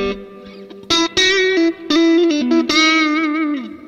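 Electric guitar played through a UAD Marshall Silver Jubilee amp plugin with reverb, loud distorted sustained notes and short riffs with pauses between phrases and a reverberant tail.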